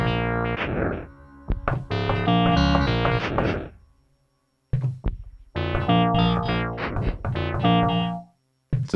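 Kontakt synth instrument with its reverb turned down, playing bright bursts of notes and chords in phrases, separated by short silent gaps, loud and alone without talk.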